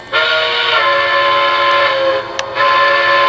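A loud, steady model train whistle from a Lionel LEGACY set blows with rich harmonic tones, briefly dipping before sounding again, close and alone.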